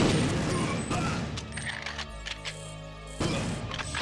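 Gunfire rattles through a multiplayer match of the video game Perfect Dark, with dense bursts of rapid shots, crashing impacts and a low rumble blending into continuous, fairly loud game combat.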